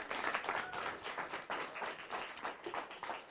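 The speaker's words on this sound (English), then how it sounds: "So I just want to get a big applause from everybody." An audience at a film festival award ceremony applauds in a brief, fairly faint stretch of scattered clapping, heard alone without talk.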